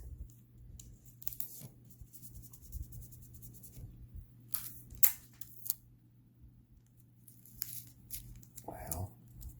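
Tape is torn from a roll and pressed down onto a fabric bag in several short, sharp ripping bursts separated by quiet handling sounds, close and fairly faint.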